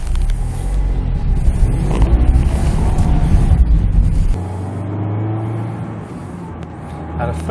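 A Mazda MX-5 Miata Kizuna with its smaller 132-horsepower engine pulls away up close, a loud, rough engine roar that eases into a steadier, lower drone about halfway through.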